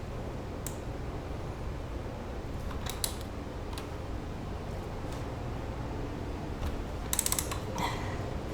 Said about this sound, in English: So this wrench, oil filter wrench, just takes the square of a ratchet like that.